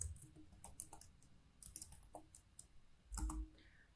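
Code being typed on a computer keyboard: irregular bursts of close, crisp key clicks with short pauses between them, quiet and with no voice.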